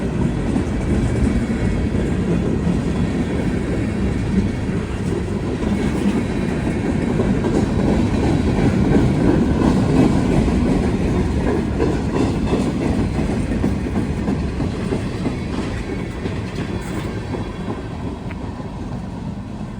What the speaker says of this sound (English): Nice cut of boxcars.